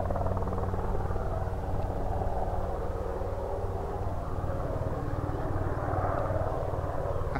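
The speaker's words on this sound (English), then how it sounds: "Turkish helicopter again." Distant Sikorsky S-92 helicopter droning with a steady rhythmic rotor thump, faint but continuous, swelling slightly toward the end.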